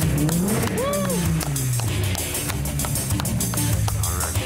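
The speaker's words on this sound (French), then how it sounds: "Marco échauffe les pneus pour accroître l'adhérence." A Volkswagen Golf GTI on a race circuit has its tires warmed for grip: a loud, steady engine roar with a brief, rising and falling tire squeal near the start, then continuous close driving noise.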